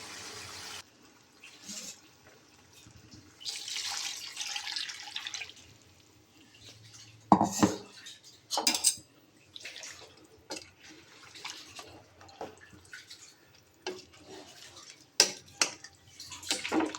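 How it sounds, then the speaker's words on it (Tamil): Water splashes and trickles into a cooking pot of chicken curry in uneven bursts, with clinks and drips between pours, close and fairly quiet. "எவ்வளோ தண்ணி வேணுமோ இதில் கலந்து நம்ம இப்போ ஊற்றிக்கிறோனுங்க"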